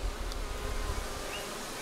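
Honeybees buzz steadily around an open hive, a continuous low drone with a dense background hum, fairly close and even throughout.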